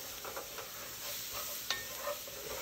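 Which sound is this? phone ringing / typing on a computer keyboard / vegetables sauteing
vegetables sauteing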